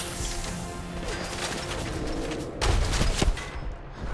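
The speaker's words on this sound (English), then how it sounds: "Someone shooting me as well" Rapid gunfire in the video game Fallout 4, a dense stretch of loud shots and crashes that grows heavier partway through, with no talking.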